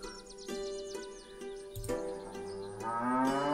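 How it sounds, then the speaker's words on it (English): Cows low from a shed in the video game Milkmaid of the Milky Way, with one long, deep moo rising and then a second, higher call, while a melodic game tune with chirping notes plays underneath. "I heard impatient mooing from the shed"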